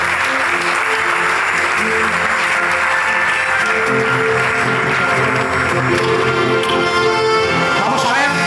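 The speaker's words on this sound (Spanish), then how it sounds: "Un aplauso para ella," Loud, sustained applause from an audience at the Gamonal awards ceremony, continuous clapping for about eight seconds with faint voices beneath.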